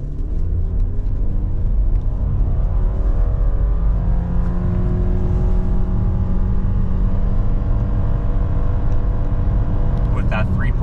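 A 2023 Subaru Forester Limited with a 3.7 final drive ratio makes a brake-rev launch, its engine rumbling steadily and climbing in pitch as it accelerates hard, loud and close throughout the run.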